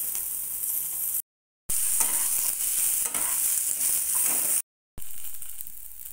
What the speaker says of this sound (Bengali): কেটে রাখা আলুগুলো একই সঙ্গে দিয়ে দিলাম। পটলগুলোকে না তুলে নিয়ে আলুগুলোকেও একটু ভালো করে ভেজে নিতে হবে।